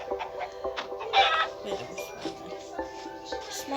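Soft clucks from a Minecraft chicken sound in short repeated bursts over a quiet game background, with one louder cluck standing out.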